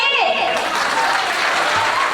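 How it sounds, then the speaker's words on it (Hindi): An audience at a dance and singing competition claps briskly in thanks to the performers, with dense applause under a host's amplified voice at the start. "उसी लिए सभी लोग उनको शुक्रिया अदा कीजिए अपने क्लैप के द्वारा।"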